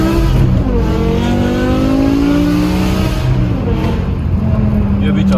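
A BMW E60 M5 with its V10 engine revs hard, a loud, sustained, rising and falling engine roar heard up close and filling the whole stretch.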